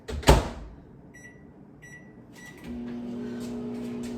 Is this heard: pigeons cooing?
no